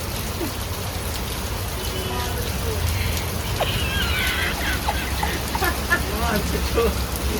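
Rain falls steadily outdoors in the Konkan region, a constant close patter and hiss throughout, with people talking over it.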